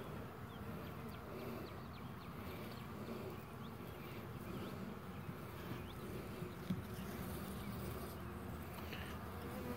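Honey bees buzz steadily around a nuc hive in a barnyard, a continuous insect drone that carries through the whole stretch with no talk over it.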